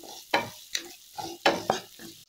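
Finely chopped onions, two medium ones, frying in a pan for Idukki special kappa biriyani, a close sizzle broken by five or six quick scraping stirs, with no talking.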